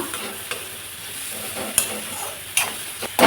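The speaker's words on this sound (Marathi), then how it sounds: "आता हे छान सगळं भाजून घेऊया पुन्हा" Tomato and other ingredients with turmeric roasting in a pan, a dense, loud, close sizzle with a few sharp utensil scrapes and knocks as everything is stirred, and no voices.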